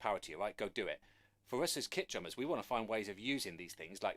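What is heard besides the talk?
No everyday noise stands out behind the speech.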